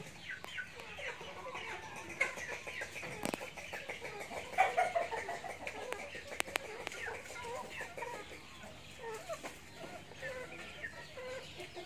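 Black Night chickens offered for sale cluck steadily and fairly close for about twelve seconds, a continuous murmur of overlapping calls with a few sharper squawks rising above it and no talking.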